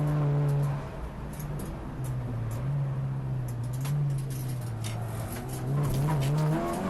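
BMW touring car on the pit straight at Snetterton during a Clubsport Trophy race, its engine droning loud and steady throughout with a wavering pitch, a faint tire squeal and some trackside noise mixed in.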